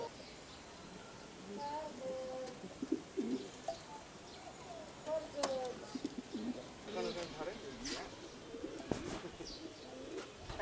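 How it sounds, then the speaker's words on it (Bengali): A pair of Sirazi pigeons coo softly and repeatedly at close range, mixed with faint chirps and a few wing or cage knocks, while someone talks intermittently. "এক দুটা কবুতরের নাম সিরাজি"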